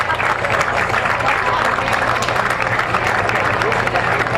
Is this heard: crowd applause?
yes